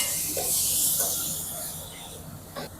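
Tomatoes dropped into a hot pan of sambar, a loud hiss of sizzling that swells then slowly fades, with a few faint clinks.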